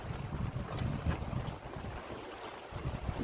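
A sailboat under sail off Genoa moves through the sea, with rumbling wind buffeting the microphone and a constant wash of water, loud and without speech.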